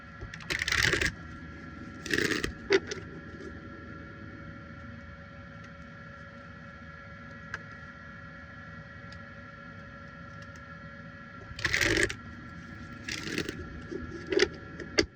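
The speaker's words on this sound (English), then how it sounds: "I didn't shuffle my cards the last time I used them" Playing cards are shuffled in short, papery riffling bursts, a few early and a few later, separated by a long stretch of quiet room hum.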